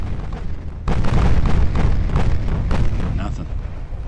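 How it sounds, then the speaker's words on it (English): Eight-inch naval guns firing in Ultimate Admiral: Dreadnoughts, a loud battle scene where a sudden heavy boom gives way to rumbling, crackling bursts from several shots that roll on for a few seconds. "Those are my 8-inch guns."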